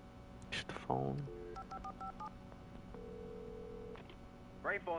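Telephone dialing in Alan Wake Remastered: a short series of keypad tones and a sustained tone from a phone, fairly close, with a voice speaking before and after.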